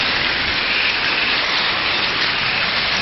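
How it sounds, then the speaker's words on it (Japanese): Heavy typhoon rain pours steadily, with water gushing from a rain gutter in a continuous, loud, dense wash of noise that never lets up. "雨どいからの水も豪快になってます。"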